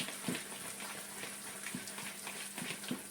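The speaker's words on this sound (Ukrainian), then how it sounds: "По чуть-чуть додаємо водички, вимішуємо фаршик" Water is added bit by bit to minced meat being mixed by hand, giving a faint, continuous wet gushing and squelching with soft splashes near the mic, no voices.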